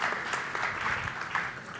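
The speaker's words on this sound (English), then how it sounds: "Let's give him a round of applause" An audience gives a round of applause for attorney Gerald Griggs at a voting rights event, a steady patter of many hands clapping at moderate distance, fairly quiet.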